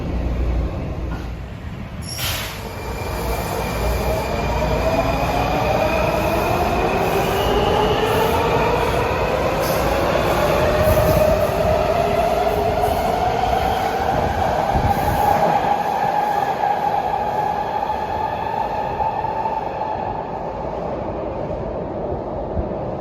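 A Washington Metro Red Line subway train moves through a deep underground station, its loud steady rumble filling the space, with rising and falling wheel squeal and a brief sharp screech near the start.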